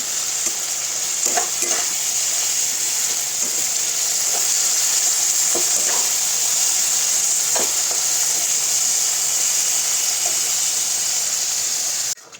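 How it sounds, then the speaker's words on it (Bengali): Cauliflower, beans, carrot and capsicum sizzling steadily in a pan for fried rice, with occasional soft stirring scrapes and no talk. "ফ্রাইড রাইসের জন্য ফুলকপি বিনস গাজর আর ক্যাপসিকাম ভাজা হচ্ছে"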